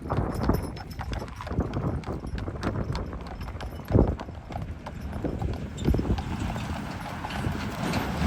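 Belgian draft horse hooves clop steadily on a hard surface, a continuous irregular rhythm of close, clear hoofbeats with a louder knock near the middle.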